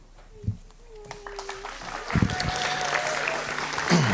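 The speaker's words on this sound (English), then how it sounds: "Keep that applause coming and welcome him up to the front." Wedding guests applaud at a reception, the clapping building from scattered hand claps into a steady round of applause under background chatter and a voice.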